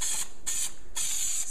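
Spray adhesive can hissing onto felt during a motorcycle trunk install, three bursts of close, steady spray separated by short pauses, with no one talking.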